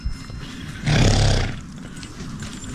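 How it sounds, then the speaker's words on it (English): A horse in an outdoor paddock gives a short, loud, rough snort-like call of about half a second, rising abruptly above quiet background hiss and fading back to stillness. "The horse is agreeing."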